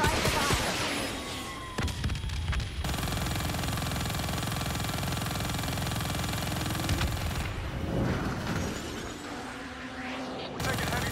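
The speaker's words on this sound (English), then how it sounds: "We're taking heavy fire over here." Heavy sustained gunfire and engine roar in the shooter game Call of Duty Black Ops III, a dense continuous barrage with short breaks and voices talking over the noise.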